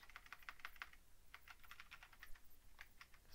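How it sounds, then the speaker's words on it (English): Quiet, quick keystrokes on a computer keyboard as a command is entered, in two short runs of taps separated by a brief pause, then a few more taps. "I'm going to type in"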